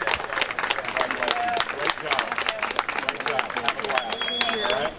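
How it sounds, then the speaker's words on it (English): Venue audience applauding the top two finishers of the women's 10K at an open water swimming championship in Miromar, Florida; steady broad clapping throughout with crowd voices and announcer-style speech over it. "how about a round of applause for Ashley and Haley, your top 2 in the women's 10K"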